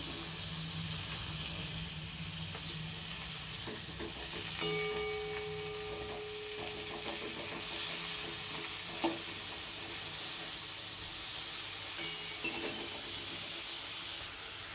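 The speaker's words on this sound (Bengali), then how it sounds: "এখানে আমি পটলটা নুন হলুদ মাখিয়ে ভেজে নিচ্ছি" Pointed gourd coated in salt and turmeric frying in oil, a steady low sizzle running throughout with occasional faint clinks and stirs, no talking.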